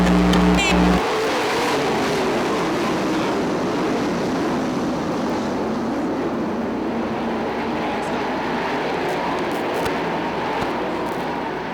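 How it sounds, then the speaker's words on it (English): 410 sprint race cars accelerate out of turn 4 at Fremont Speedway, a dense, loud engine roar that starts abruptly and fills the whole stretch without letting up. "Here they come on the gas out of turn 4, green."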